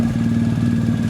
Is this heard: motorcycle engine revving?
yes